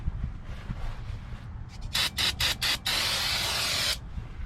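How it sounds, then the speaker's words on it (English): Short hissing bursts of aerosol spray onto a 1991 Chevy Silverado brake rotor, several quick puffs followed by one longer continuous spray, close by over a low background rumble. "I'm gonna spray this back part"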